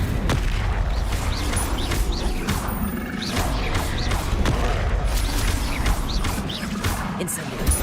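Incendio fire spell cast in the video game Hogwarts Legacy, a run of repeated whooshing blasts and booming impacts, loud and dense throughout.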